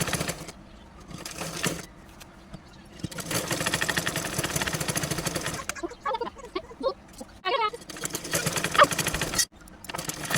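A sewing machine stitches a pajama seam in uneven bursts, a busy mechanical whir with pauses, faint clicks and handling noises between runs.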